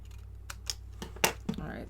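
Scissors trim craft material in a quiet room: five or six sharp, separate snips in an uneven rhythm, close and fairly soft.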